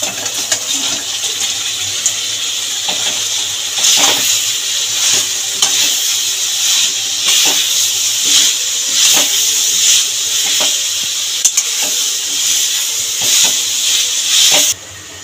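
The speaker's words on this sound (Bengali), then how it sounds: "চিকেনটা দিয়ে ভালো করে নেড়ে চেড়ে মিশিয়ে নিয়েছি গ্রেভিটার সাথে" Crispy chicken pakoras being stirred into chili gravy in a pan for restaurant-style chili chicken: a loud, continuous sizzle and steam hiss broken by repeated scraping stirs, close up throughout.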